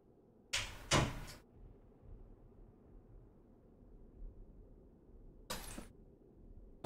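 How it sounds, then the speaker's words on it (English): A door being opened indoors, with two close knocks or clunks of the latch and handle near the start and another clunk later, over a faint steady hum. "Then I'm gonna open the door for my cat."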